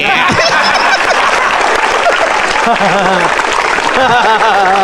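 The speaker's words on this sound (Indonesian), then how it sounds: "Tepuk tangan buat Metro TV." Audience applause at an Indonesian stand-up comedy show, a steady loud wash of clapping mixed with laughter and chuckles from the crowd, while a voice talks over it throughout.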